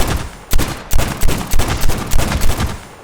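Rapid revolver gunfire in Call of Duty Mobile zombies mode, about seven loud sharp shots in quick succession, each a punchy broadband crack, with no talking over them.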